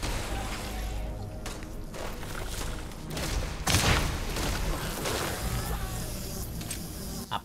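Bursts of gunfire and impacts in the space shooter Starfield, dense and continuous with a louder blast near the middle, under someone talking.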